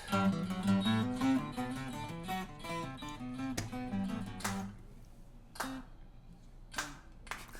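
A recorded sea shanty drinking song plays, with a rhythmic sung melody and steady harmonic accompaniment that stops abruptly, followed by a few sharp isolated knocks and claps in near silence.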